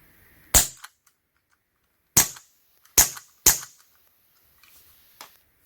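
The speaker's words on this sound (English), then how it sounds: "So I can give it a sample shot." A Glock 17 blowback CO2 BB pistol fires four sharp, loud cracks, the first one alone and the last three close together, followed by a couple of fainter mechanical clicks.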